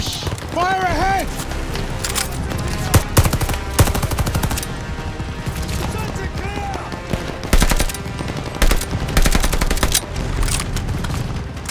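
Machine gun fire rattles in rapid, sustained bursts during a World War II battle in the video game Call of Duty: Vanguard, with explosions, booming impacts and shouted in-game voices mixed over a loud, dense soundscape.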